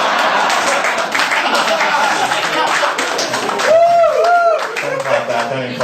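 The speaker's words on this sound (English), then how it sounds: "clap that, don't encourage me." Audience applause fills a small stand-up comedy venue as scattered, steady clapping that rises and falls, with a voice briefly audible over it near the end.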